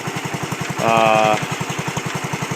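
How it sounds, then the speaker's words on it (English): A 1973 Wheel Horse Automatic 12 lawn tractor engine idling close by with a steady rhythmic chug, briefly overlapped by a short loud burst of another sound midway. "that's the Wheel Horse 12 1973 automatic running right there."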